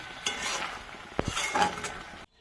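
Moong dal with pumpkin leaves stirred in a pan until dry, a few close scrapes and soft sizzling taps against the metal, then brief silence at the end.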